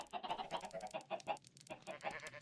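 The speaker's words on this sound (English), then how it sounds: "So I need to get all of these chickens back in here." Chickens cluck in the video game StoneBlock 4, a dense run of short overlapping clucks and squawks from several birds close by, continuous with a brief lull midway and no talking.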